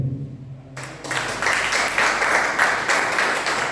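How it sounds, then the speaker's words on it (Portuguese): A church congregation breaks into applause after a quiet moment, a sudden swell of clapping that rises and stays full and sustained to the end. "Palmas para o Senhor."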